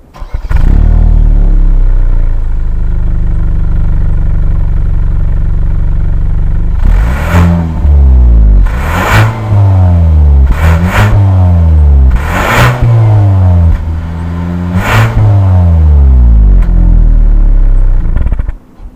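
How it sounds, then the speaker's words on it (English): Exhaust of a 2019 Hyundai Santa Fe SUV, close and loud, holding a steady idle drone before a series of sharp revs that rise and fall repeatedly, then settling back to idle. "let's go to the back and get a big SUV exhaust clip"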